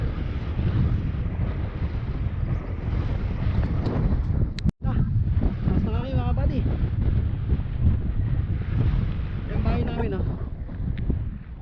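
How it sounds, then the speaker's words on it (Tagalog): Strong wind buffets the microphone throughout with a constant roar, and voices talk under it, with one brief dropout midway. "Sapak pa yung hangin no."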